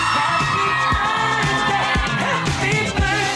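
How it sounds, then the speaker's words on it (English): Party guests at a bat mitzvah celebration yell, whoop and cheer together in a loud, sustained crowd roar with overlapping voices and a steady thumping beat underneath. "I need y'all to make some noise. Scream."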